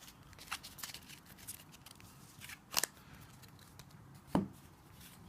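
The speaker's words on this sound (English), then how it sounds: "So we'll just get the cards back together." Yu-Gi-Oh trading cards from an Emperor of Darkness structure deck being gathered and squared into a stack, giving soft papery shuffles and a few sharp flicks and taps, close and quiet with no talk.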